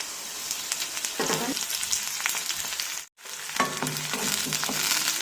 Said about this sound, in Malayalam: ഒന്ന് കടുക് വറക്കാം